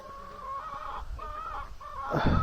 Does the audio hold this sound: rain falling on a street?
no